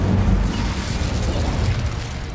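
Incendio fire spell cast in Hogwarts Legacy, a loud, dense burst of low fiery rumble that holds steady across the whole moment, with no voices over it.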